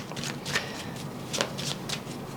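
Deck of self-therapy cards being shuffled, a run of soft papery riffles and slides repeating close by over steady faint room hiss, no voices.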